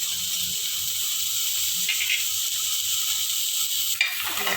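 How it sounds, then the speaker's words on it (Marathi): Tomato puree for chole sizzling and hissing steadily in a hot pan, a constant close frying sound with faint stirring scrapes, no talk. "टोमॅटो छान फ्राय झालाय."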